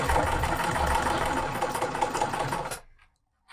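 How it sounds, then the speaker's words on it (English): A sewing machine stitching fabric in a steady, fast mechanical whir with rhythmic needle chatter, running loud and close before winding down and stopping into near silence. "I've taken you over to the sewing machine with me"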